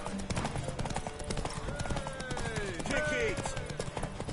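Horse hooves clip-clop steadily in The Witcher 3, a quick, even trot that runs under spoken dialogue and a brief shout.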